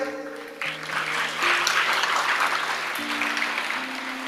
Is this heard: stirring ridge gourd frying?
no